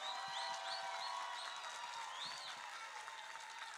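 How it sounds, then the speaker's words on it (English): Steady crowd applause at an indoor national assembly plenary in Baltimore, fairly distant and even, with a few chirping whistles or whoops cutting through the clapping. "rise to your feet and clap it up for Marilyn Mosby's Freedom Day"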